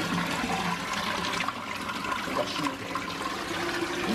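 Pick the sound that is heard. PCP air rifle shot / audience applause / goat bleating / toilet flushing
toilet flushing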